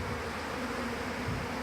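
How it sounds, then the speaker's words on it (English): A swarm of honey bees flies around a nucleus hive entrance, producing a dense, continuous buzzing drone that stays steady and close throughout, with no voices. "it's all these flying bees that seems to be confusing the issue"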